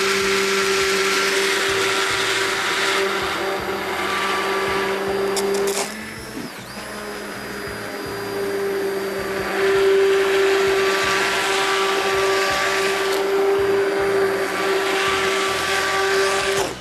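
An electric grinder works soaked lentils, still coarse and firm on a first pass, into paste: a loud, steady high motor whine close by, briefly dipping and recovering partway through, then running on unbroken.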